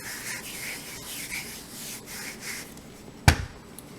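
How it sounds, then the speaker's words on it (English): A hand rubbing sprinkled powder into a candle, a soft, steady brushing scrape close by, ending in one sharp knock. "After you sprinkled it up, you are going to rub it all in."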